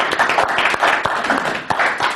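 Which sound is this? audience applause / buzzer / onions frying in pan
audience applause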